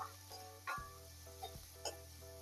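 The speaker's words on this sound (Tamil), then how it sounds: "பச்சை மிளகாய் வெங்காயத்தை நல்லா நம்ம இப்போ மிக்ஸ் பண்ணி விட்டுடலாம்." Onion and green chili sizzling in a pan for sesame rice: a soft, steady frying hiss, with light ticks and scrapes as a spoon mixes them, set against a faint low hum.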